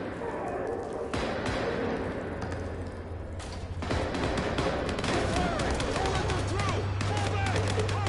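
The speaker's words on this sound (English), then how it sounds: "Gunfire." Gunfire bursts in Vampire: The Masquerade – Bloodlines 2 crackle through a dense, busy mix of effects and music, with sharp shots scattered across the clip.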